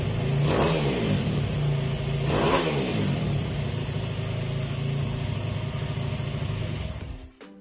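Mini MX drift 140cc pit bike engine revving hard, two sharp throttle blips over a loud sustained high-rpm buzz, then cutting out abruptly at the end, close up.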